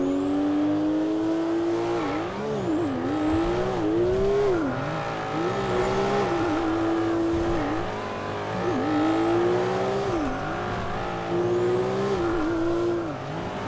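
A loud car engine in GTA 5 drives steadily, its drone repeatedly revving up and dipping as it shifts, continuous and close throughout with no talk over it.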